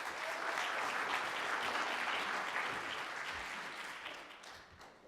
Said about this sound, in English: Please give a warm round of applause for Mr. Boyle.